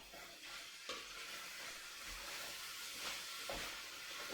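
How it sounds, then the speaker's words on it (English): Curry simmering in a pan on the stove, a steady soft sizzle and bubbling hiss with occasional faint scrapes of stirring, close and fairly quiet with no talking. "Get that on the simmer."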